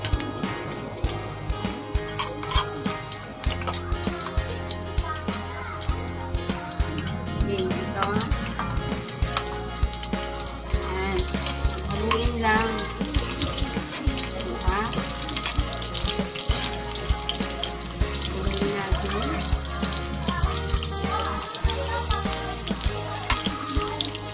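Garlic frying in hot cooking oil for fish sarciado, a steady dense sizzle running throughout with stirring and clinks on top.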